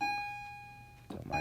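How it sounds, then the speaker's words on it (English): A doorbell rings indoors as a steady, sustained electronic tone. It is briefly interrupted by a broadband rustle near the end before the tone resumes, and the whole sound is fairly quiet. "Don't mind the bell."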